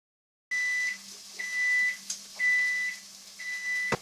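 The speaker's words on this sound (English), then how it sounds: "The timer just went off." A kitchen timer alarm goes off while vegetables cook for congri, repeating bright electronic beeps in evenly spaced bursts over a steady low hum.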